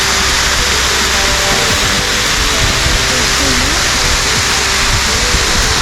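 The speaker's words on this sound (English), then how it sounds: "That's a big waterfall, baby." Loud, constant roaring rush of a big, tall waterfall of about 100 feet cascading down on the Fiery Gizzard trail, a dense steady wash of falling water heard close, with a faint low tonal hum beneath.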